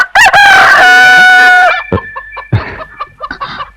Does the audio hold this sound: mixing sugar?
no